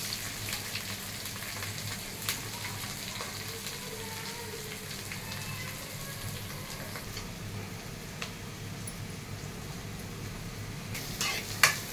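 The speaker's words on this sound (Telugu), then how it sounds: "కొంచెం ఆయిల్ వేసుకుని ఫస్ట్ ఆనియన్, పచ్చిమిర్చి ఫ్రై చేయాలి." Onions and green chillies fry in oil in a small pan, giving a soft, continuous sizzle with occasional light clicks and taps from stirring, and no one speaking.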